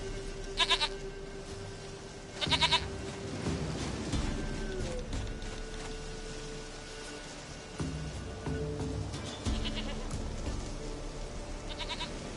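In the Witcher 3 video game, a goat gives short, bright bleats, two early ones and a few later, over a steady low game ambience.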